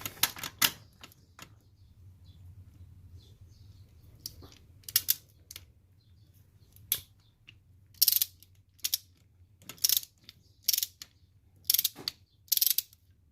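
A torque wrench tightens a spark plug on a 2014 Toyota Tacoma V6, giving sharp ratcheting clicks in short spaced bursts over a low background hum, close and clear.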